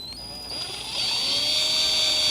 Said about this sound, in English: So I'm going to start this pilot hole with a 5/84 drill bit, and I'm going to put it in the entire way.